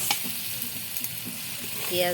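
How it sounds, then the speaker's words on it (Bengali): Fish belly and onion fry together in a pan with a close, continuous sizzle, punctuated by a few soft stirring knocks and a brief tonal sound near the end. "এর সাথে পেঁয়াজ দিয়ে মাছের পেটা দিয়ে একসাথে ভাজা হচ্ছে"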